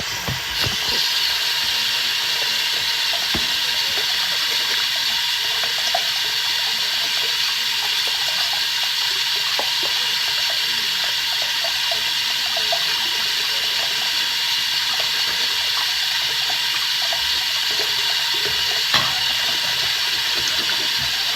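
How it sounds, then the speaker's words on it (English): Running water rushes steadily while a small brush scrubs the tips and serrations of instruments beneath the flow, a continuous close hiss with faint scrubbing detail and no voices. "I'm using a small brush, which is this, to clean every tip and serration thoroughly"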